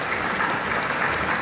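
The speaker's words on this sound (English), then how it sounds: "You're allowed to clap," A crowd applauds at a KTM motorcycle launch event, a dense, even wash of clapping hands filling the whole moment, moderately loud with no voices on top.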